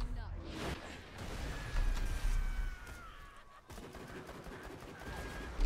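Pistol shots in Borderlands 2 crack out in a quick irregular series over game music and effects, moderately loud and close, with no talking during the firing.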